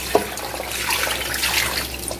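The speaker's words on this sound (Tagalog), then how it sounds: "lagyan natin ng tubig" Water pours into a pot holding beef for bulalo, a soft, steady splashing stream with a small knock at the start, fairly quiet and without talk.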